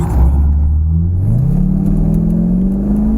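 A C5 Corvette, already warmed up and fitted with a ziptie mod, revs in neutral. The loud, close engine rises steadily in pitch as it climbs from idle, with no voices.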